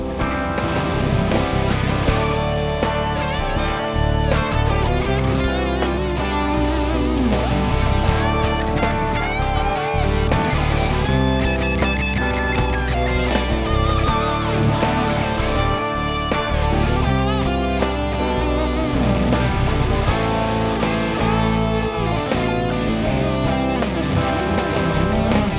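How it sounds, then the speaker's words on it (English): Electric guitar with heavy distortion plays a dense, continuous passage of bent notes and sustained chords, loud and close with no talking. "I'm gonna give the example with more distortion."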